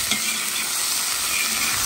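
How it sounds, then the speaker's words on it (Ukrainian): Onions sizzle steadily in a hot pan for Ukrainian goulash while being stirred, the frying hiss loud and continuous with soft scraping strokes. "і даємо цибулю. І мішаємо так, щоб підсмажити до золотого кольору."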